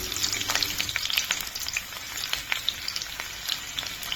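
Garlic and onion sizzle in hot oil in a wok, a close, crackling fry with sharp spits and pops and no talking.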